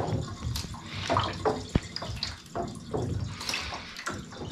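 Cyanotype print being washed and agitated in water, with irregular sloshing and splashing, running water and occasional drips, close and moderately loud, no talking.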